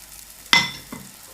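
Batter ladled into a hot pan over a medium gas flame hits with a sudden loud sizzle that quickly fades, followed by a second, softer burst of hissing as more is poured.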